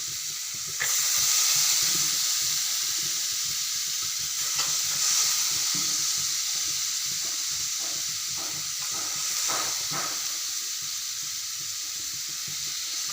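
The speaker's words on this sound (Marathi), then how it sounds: "आता मी डाळ सोडत आहे" Lentils dropped into a hot oiled pan with chopped aromatics for a Khandeshi dal-eggplant dish, giving a loud, steady close sizzle and hiss with stirring scrapes and spatters throughout, no talk.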